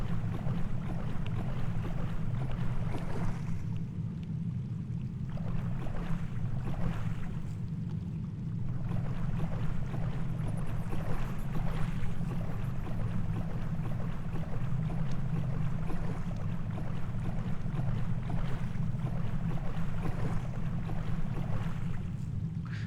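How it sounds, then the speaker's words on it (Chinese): A machine in the water-filled maze of the first-person horror game Washout gives off a steady low mechanical rumble with a watery wash over it, continuous for about twenty seconds and heard alone. "一种机器的声音。"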